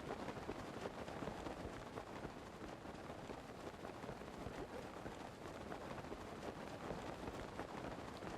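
Rain falls in The Legend of Zelda: Breath of the Wild as a steady, even wash of faint hiss and patter, continuous throughout with no voices.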